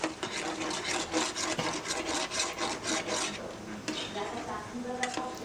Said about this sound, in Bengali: গ্যাসটাকে লো ফ্লেমে দিলাম, দিয়ে এবার এটাকে নাড়তে হবে যাতে তলাটা না ধরে যায়।